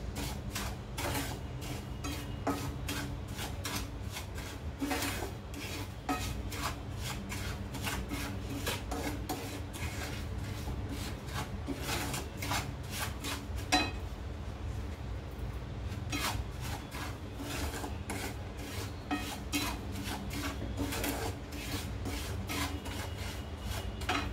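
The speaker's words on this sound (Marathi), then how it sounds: "कोरडी जी जिन्नस आहे ते पहिले आपण भाजून घेऊ" Dry spices roast in a pan for a raw mango pickle, stirred continuously so they make a steady dry rasping and scraping, with rapid rhythmic strokes that run on without pause under a low background hum.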